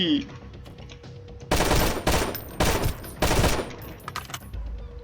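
Gunfire in the survival game Sunkenland: three loud, dense bursts of automatic fire about half a second each, set apart by short pauses, with quieter ambient game sounds before and after.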